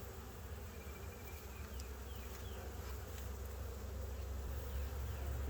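Honey bees swarm around an opened hive box during a post-swarm inspection, a dense continuous buzzing close by with individual bees zipping past.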